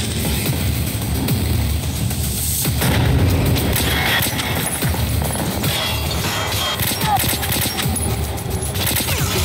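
Gunfire rattles through a firefight in the post-apocalyptic shooter Metro: Last Light, loud dense bursts of automatic shots mixed with booms and crashes, continuous for the whole stretch.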